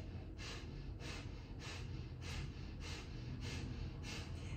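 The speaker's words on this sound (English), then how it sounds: "So it'll look like this with a breath of fire." Rapid rhythmic yoga breath of fire, sharp nasal exhalations pulsing about once every 0.6 seconds, steady and close over a low background rumble, with no talking.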